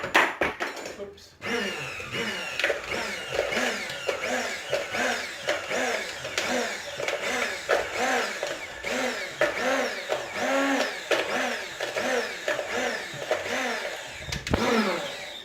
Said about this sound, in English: we're going to give this a little bit of a blitz up. This is just a normal hand blender.